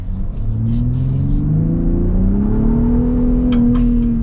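A Ford F-150 Raptor pickup's engine accelerates hard, a loud, continuous rising roar that climbs steadily in pitch and holds up close for several seconds without any talk.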